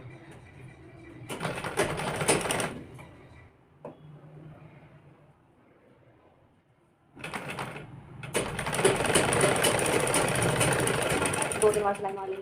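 A sewing machine stitching a kurti collar runs in two loud, close bursts of rapid mechanical whirring, the second one long and continuous, with a quieter stretch between them where a voice speaks softly.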